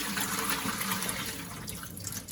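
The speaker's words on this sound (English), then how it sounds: "we're gonna empty out the water." Water from cooking shrimp pours out of a pot in a steady, rushing splash, close and loud, easing slightly toward the end.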